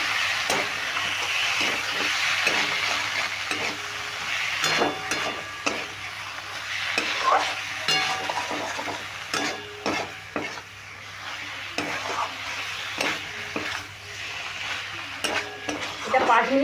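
Elephant foot yam stalks with chickpeas and spices frying in a pan on medium heat, a steady sizzle broken by repeated scraping stirs of a spatula, some sharp and clattering, with no one talking.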